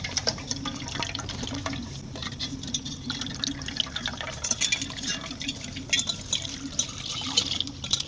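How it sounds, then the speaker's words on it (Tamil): Dissolved tamarind water is poured into a pot for a village-style fish curry, giving a continuous splashing, trickling flow with light drips and stirring, close by and moderately soft. "இப்போ புளியை கரைச்சி ஊற்றுறாங்க."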